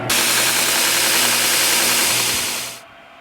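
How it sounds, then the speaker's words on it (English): An angle grinder cuts the corner off a forged knife blade, giving a loud, steady, harsh hiss for nearly three seconds before it stops abruptly and leaves a low hum. "We have to like grind this corner off real quick."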